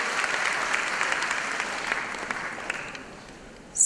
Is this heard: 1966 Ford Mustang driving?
no